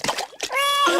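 A cartoon child splashes in swimming pool water, with quick splashy bursts at the start followed by a sustained childlike vocal sound; the splashing may be voiced or imitated rather than real water.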